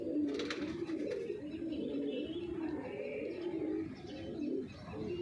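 Several Punjabi Malwai pigeons coo softly and continuously up close, in low rolling repeated calls with a few faint chirps above them.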